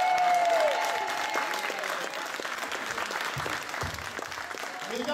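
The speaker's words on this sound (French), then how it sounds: "vous pouvez vous applaudir très fort" Loud applause from a wrestling show audience, dense continuous clapping sustained for about five seconds with a brief whistle-like tone near the start.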